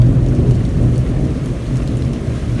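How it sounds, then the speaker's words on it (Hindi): Heavy downpour with thunder outside in the early morning, a loud steady hiss of rain with deep rolling rumbles underneath, heard close and without any voices. "बाहर ख़तरनाक वाली बारिश हो रही है और बिजली भी ऑलमोस्ट सॉर्ट ऑफ कड़क रही है"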